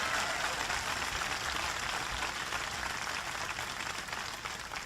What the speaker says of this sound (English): Give Jim Jacobs a big round of applause.